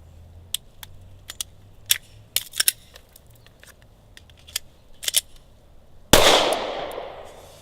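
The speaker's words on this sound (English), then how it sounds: "There's your double feed malfunction in a nutshell" A handgun double-feed malfunction is cleared at full speed: sharp metallic clicks and clacks scattered over several seconds, ending in one loud, abrupt crack that rings and fades.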